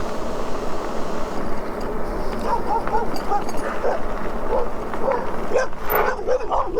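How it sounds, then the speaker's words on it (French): Guard dog barking outdoors, tied up, heard while riding past on an electric bike; yips and barks come in short bursts over steady wind and motor rumble. "Les chiens de garde ici."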